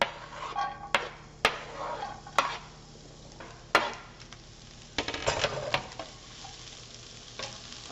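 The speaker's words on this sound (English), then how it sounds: "we're just going to fry up the onions and green peppers" Onions and green peppers fry quietly in a pan, a soft steady sizzle broken by sharp clacks of a utensil stirring and tapping, with no voices.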